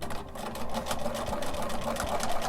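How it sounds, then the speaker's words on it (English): Sewing machine stitching binding through all the layers of a quilted candy corn hot pad, a continuous close mechanical whir with a rapid needle rhythm running steadily for the whole stretch. "now you're going to stitch through all the layers, making sure you catch all of them"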